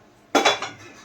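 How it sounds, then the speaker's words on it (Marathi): A metal kadhai is set down on the stove with a single sharp clank, followed by a brief ringing rattle that fades quickly in a quiet kitchen. "कढई ठेवली आपण."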